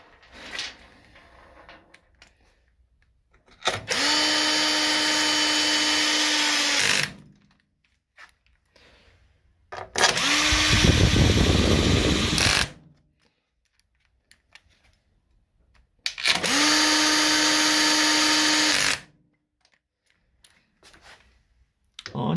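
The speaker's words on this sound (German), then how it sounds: "Dann machen wir die restlichen Schrauben fest." A cordless power tool runs screws into a Peugeot JetForce scooter after a drive belt change, three loud close bursts of a few seconds each with a rising whir, separated by quiet pauses and faint handling clicks.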